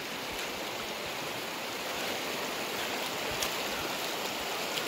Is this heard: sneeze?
no